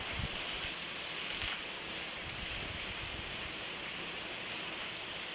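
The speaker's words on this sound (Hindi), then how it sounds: "शानदार बारिश होती हुई" Heavy rain pours down steadily in Umaria, a constant close hiss of falling water with no breaks, running unchanged from start to finish.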